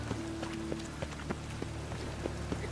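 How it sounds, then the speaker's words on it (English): Steady rain falls in The Witcher 3 game world, a dense continuous hiss broken by scattered louder droplet taps, heard alone without voices. "Looks like rain."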